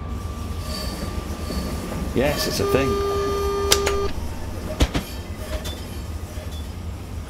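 A Class 395 electric train runs on the South London network in Train Simulator, producing steady rail rumble with a high squeal and sharp clanks, while people chat over it.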